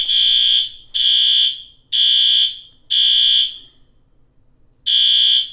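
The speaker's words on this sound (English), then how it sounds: "there's a fire alarm" A fire alarm blares in loud, shrill electronic tones. Four evenly spaced pulses are followed by a short pause and then a fifth, with nothing else audible.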